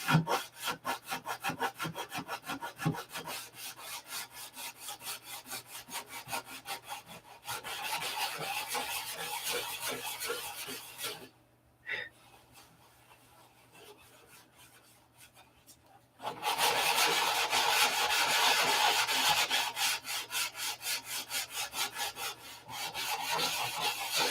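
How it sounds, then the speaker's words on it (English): Hand sanding of a small wooden model part, a cowl or bottom block, made of rhythmic rasping strokes close up. The strokes go quiet and sparse for a few seconds, then return louder and steady. "use your hands and ears when you're sanding."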